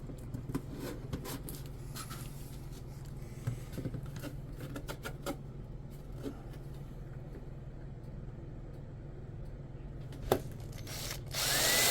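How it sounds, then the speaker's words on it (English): A power drill bores holes in a non self-righting Dominator boat hull, giving a steady whirring hum broken by sharp knocks and scrapes, rising louder at the very end. "So we got all 4 holes drilled."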